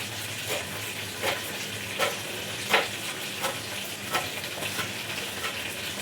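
Finely chopped coriander, curry leaves and mint fry in a pan, sizzling steadily and fairly loudly, with periodic scraping stir strokes and no talking.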